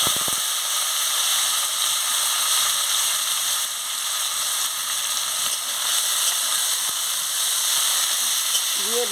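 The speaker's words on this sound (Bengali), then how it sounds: "দিয়ে ভালো করে ভেজে নিচ্ছি" Potatoes, green chili and onion fry together in spiced oil, making a continuous, close, even sizzle with soft crackling that holds steady for the whole stretch.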